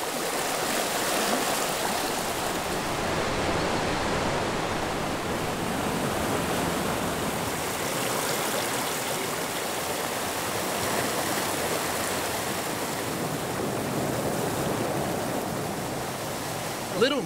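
A stream rushes steadily through Little Rocky Glen gorge in Pennsylvania, a continuous broadband wash of flowing water that stays even and full throughout, with no voices.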